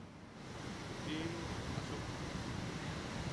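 High ocean waves break on Pancer beach in Puger, Jember, East Java, a continuous rushing surf that swells and holds at a moderate level, with a faint brief tone in the middle.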